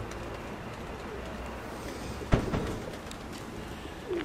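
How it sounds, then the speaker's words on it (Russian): Marble pigeons coo softly in the open air under a steady low wash of background noise, with one sharp knock partway through and a faint bird call near the end. "полное небо голубей"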